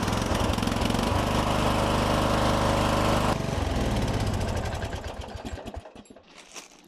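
A 1997 Murray riding mower runs loud and close with a steady mechanical engine drone just after a starter repair, shifting pitch partway through before winding down and fading toward the end.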